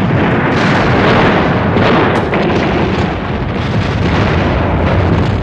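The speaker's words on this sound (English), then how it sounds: "I saw the forward guns of the Atlanta swing out so rapidly and fire." Forward guns of the warship Atlanta firing in a night naval battle off Guadalcanal: a loud, continuous roar of heavy gunfire and blasts lasting throughout, dense and rumbling with no pauses.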